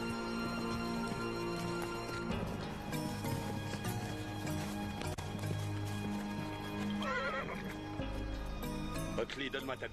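Horses in a Conan the Barbarian adventure film clip-clop steadily on the ground while one neighs and whinnies loudly, set against a musical score with swelling tones and occasional thumps.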